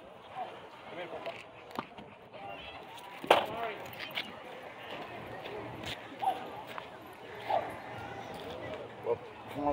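A husky with blue eyes barks at a dog park in short bursts spread through the scene, loud and close, while people talk nearby and other dogs bustle around.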